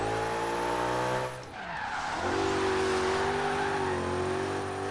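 In Forza Horizon 3, a car on race tires drifts down a snowy mountain road, its engine whining steadily before a brief dip, then tires squeal in a long sustained wail over the engine note.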